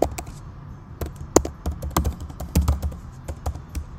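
Someone types on a computer keyboard in quick, irregular bursts of close, crisp key taps, with a few louder strokes mixed in and no voices.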